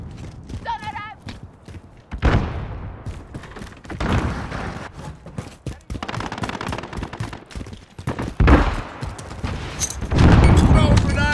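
A stun grenade detonation and gunfire in the video game Call of Duty: Modern Warfare, with loud bursts and rapid shots scattered across the stretch, mixed with radio chatter and voices.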